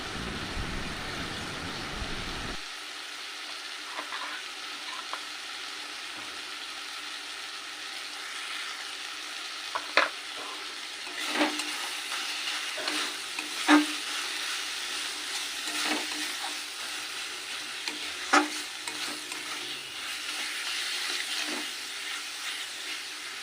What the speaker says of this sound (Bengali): সমস্ত মশলা ভালো করে কষিয়ে নিয়েছি।